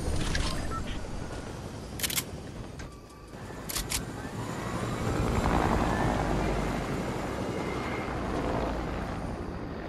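Helicopter in the Fortnite video game, a steady whirring rotor drone that swells in the middle and then settles, with sharp clicks early on and faint game sounds around it.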